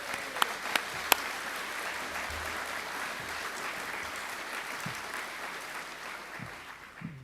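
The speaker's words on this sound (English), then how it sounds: "you all deserve a strong round of applause" A party conference audience in Bournemouth applauds in a steady, sustained wash of clapping with a few sharp claps at the start, holding level for several seconds before tapering slightly.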